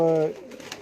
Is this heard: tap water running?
no